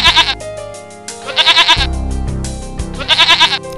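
A cartoon lamb bleats loudly three times in quick quavering cries, each one separated by a pause, over a soft musical background.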